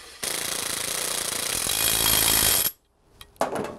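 A pneumatic impact gun hammers steadily for a couple of seconds while tightening bolts on an Audi TT kit car, close and loud, then stops and gives a brief second burst.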